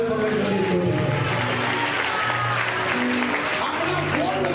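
A church congregation claps loudly during a Hindi-language sermon, the sustained applause mixed with voices talking over it.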